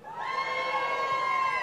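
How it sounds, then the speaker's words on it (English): Crowd of Everton fans cheering at the fan zone outside Goodison Park before a match against Bournemouth, a sustained loud roar of voices and whoops filling the whole moment. "Give me another cheer."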